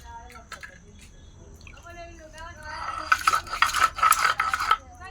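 Chili, garlic, ginger and chopped onion crushed into a spice paste on a flat grinding stone, a rough rhythmic scraping and rasping that swells loud in the second half after quieter opening moments with faint background voices.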